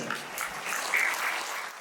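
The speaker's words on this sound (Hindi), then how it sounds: "आपके लिए एक बार जोर पे तालियां बजा देता हूं।" A short burst of audience applause at a school talk in Faridabad, moderate in level and steady throughout.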